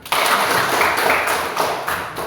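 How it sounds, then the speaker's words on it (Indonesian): A class of students gives a round of applause after a classmate finishes speaking. It is a dense burst of clapping, lasting about two seconds, starting abruptly and fading slightly. "Oke, tepuk tangan dulu."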